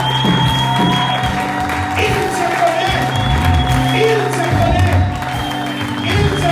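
A church congregation applauds and cheers throughout, steady clapping with whoops and shouts, loud and close, while a voice speaks over the crowd.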